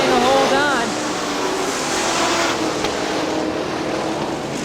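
IMCA modified race cars roar around Crystal Motor Speedway on a dirt oval in Crystal, Michigan, a steady loud engine drone with one car passing close, under a track announcer's voice.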